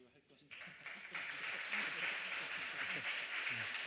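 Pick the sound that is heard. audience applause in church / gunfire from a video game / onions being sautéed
audience applause in church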